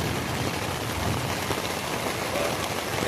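Heavy rain during a thunderstorm, a steady, even hiss of downpour drumming on surfaces with no pauses, fairly close and continuous throughout.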